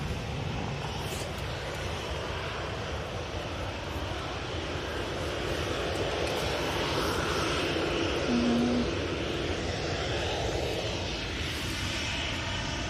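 An aircraft taxiing at Manchester Airport gives a steady, moderately distant engine roar under broadband wind and ambient hiss, swelling slightly midway with a brief tonal whine.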